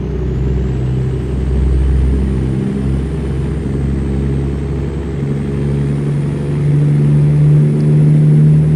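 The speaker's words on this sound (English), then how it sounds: "That's a nice sound in the engine, man." A modded truck engine in American Truck Simulator drones deep and steady, its pitch rising slightly as it revs louder near the end, with no voices.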